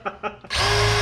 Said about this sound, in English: this is not a powerful drill.